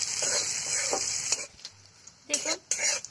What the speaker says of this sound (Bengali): দিয়ে পেঁয়াজের সঙ্গে ভালোভাবে এটাকে ফ্রাই করে নেব